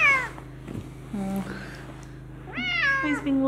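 A Bengal cat meows repeatedly at close range, several drawn-out, rising and falling cries with short pauses between them, over a steady indoor hum.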